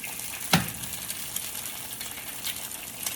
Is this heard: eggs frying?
yes